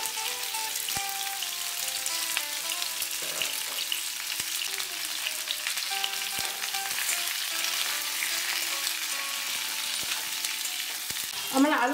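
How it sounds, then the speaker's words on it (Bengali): Pumpkin and potatoes frying in a pan, a steady close sizzle with occasional stirring scrapes and clinks running throughout, no voices. "কুমড়োটাও ভালো করে ভেজে নেব।"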